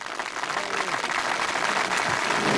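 Ceremony audience at a Beaujolais wine brotherhood induction applauds the companions of the order, a thick, sustained clapping filling the room at close range without pause.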